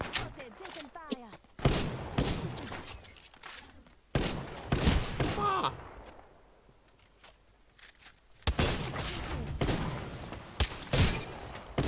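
Bursts of gunfire in Apex Legends, several rapid volleys and sharp cracks separated by a quieter gap, close and loud, with a voice speaking over parts of it.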